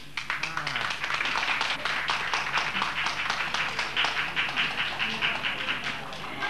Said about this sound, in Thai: ท่านผู้ชมที่อยู่ในห้องนี้ก็ปรบมือได้นะครับ